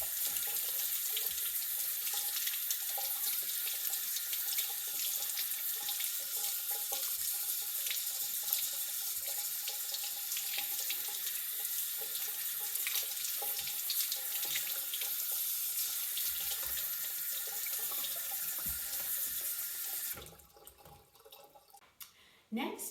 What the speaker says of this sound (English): A little bit of warm water should do the trick.